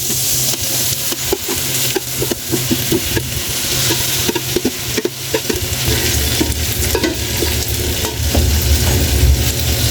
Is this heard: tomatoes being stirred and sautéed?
yes